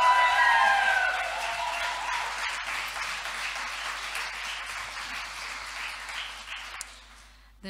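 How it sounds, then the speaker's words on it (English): An audience at a book launch applauds author Louise Kennedy with dense, even clapping and a brief voice or cheer at the start, the ovation gradually thinning and fading out near the end. "give her a round of applause"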